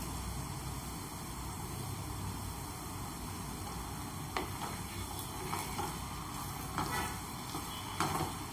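Two large finely chopped onions frying in a pan, giving a steady close sizzle with occasional stirring scrapes and no talk.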